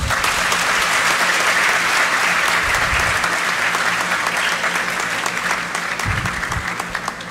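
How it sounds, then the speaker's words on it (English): A university convocation audience applauds the awardees, a foundation and a bishop, with sustained, full-room clapping that stays loud and even before tapering slightly near the end. "let us give our awardees, the Consuelo Chito Madrigal Foundation Bicol and His Excellency Bishop Joel Bailon, a round of applause"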